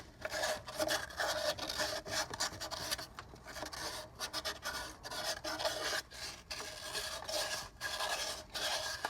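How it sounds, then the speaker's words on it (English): Fine-grit sandpaper rubbing rust build-up off a metal water pump seal surface on a 2008 VW GTI MK5, a steady close scratchy rasp in quick repeated strokes for several seconds, no talking. "I'll just take a little super fine grit sandpaper and just hit it real quick"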